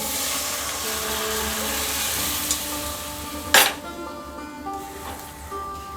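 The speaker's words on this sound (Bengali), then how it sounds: "মশলা আমাদের কষানো হয়ে গেছে ভালো মতন এবার আমি ডালটাকে এর মধ্যে ঢেলে দেব" Chana dal poured into fried spice masala for a vegetarian Bengali cholar dal, with a steady close sizzle, soft stirring scrapes and one brief loud splash midway, no talk.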